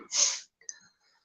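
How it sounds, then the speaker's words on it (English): A man sneezes once, a sharp loud burst followed by a quiet sniff and breath. "that was my boyfriend sneezing"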